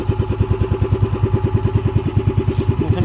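A motorcycle engine with a suspected fault idles close by, its steady chugging pulse repeating evenly and loudly for a few seconds with no talking.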